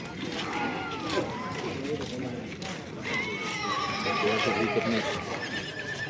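Horses neigh and whinny amid a busy Yeola horse market, several whinnies rising over a crowded background of chatter, movement and hoof sounds, with people talking throughout.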